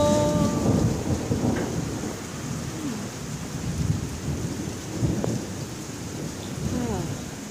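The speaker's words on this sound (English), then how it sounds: "Oh, nothing like the sound of rain." A thunderstorm overhead with steady rain and rolling thunder, the downpour constant and loud with low rumbles swelling through, plus a few faint voices in the background.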